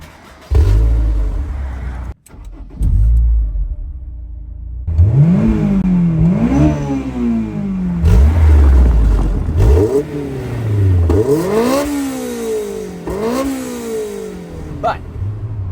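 A 1999 Honda S2000 inline four-cylinder engine revs hard and high several times in a row toward its 9,000 RPM range, rising and falling sharply, loud and close, with some talk mixed in.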